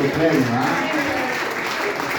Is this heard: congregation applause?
yes